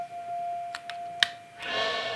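A single sustained synthesizer note holds steady and faint throughout, with a few soft clicks over it and a noisier swell near the end.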